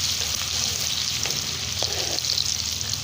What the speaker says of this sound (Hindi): अब इसमें हम थोड़ी सी प्याज शामिल करेंगे और उसे ब्राउन करेंगे